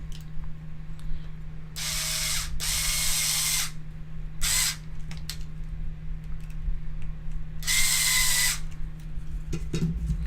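Short bursts of a small power driver running screws into a Tamiya F104 PRO II 1/10 F1 kit's motor mount, several separate whirring runs with quiet gaps over a steady low hum.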